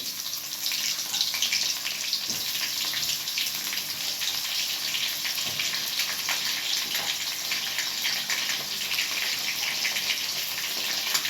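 Three onions dropped into a hot pan while cooking dum aloo, giving a steady, loud sizzle and hiss that runs without a break for the whole stretch, with no talk over it.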